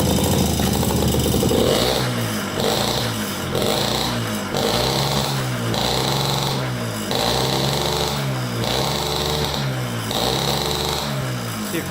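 A small dirt bike engine idles steadily nearby, a throbbing putter with a regular pulsing rhythm that holds for the whole stretch, loud and alone with no talk over it.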